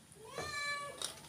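A pet cat gives a single clear, drawn-out meow in a home kitchen, fairly close and alone.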